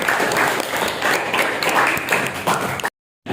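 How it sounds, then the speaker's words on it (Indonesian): Classroom audience applause after a folk tale is read aloud, a dense patter of clapping that fills about three seconds before cutting to silence. "Tepuk tangan buat."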